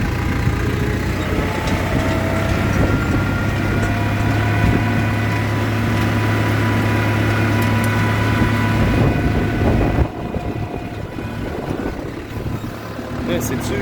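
A tractor engine drones steadily and loudly while pulling a tine harrow through a field of snow peas, its tone shifting near the end, with a voice talking at times over the rumble.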